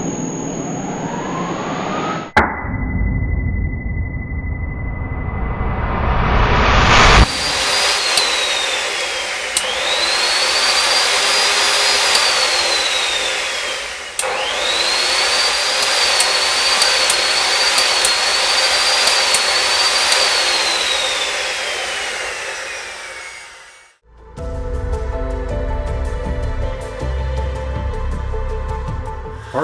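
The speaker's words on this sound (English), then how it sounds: "Pardon the fan noise, it's actually caused by my charge controller" The cooling fan of a solar charge controller in an off-grid inverter setup roars steadily and loudly throughout, a broad whooshing drone with a faint high whine and some abrupt shifts.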